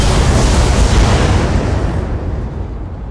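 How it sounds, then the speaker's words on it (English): Full weapon volley from a jumping mech in the Battletech video game, a loud sustained blast of explosive booms and bursts that rumbles heavily and slowly fades over about three seconds. "I'm going to jump, fire a full volley into this side"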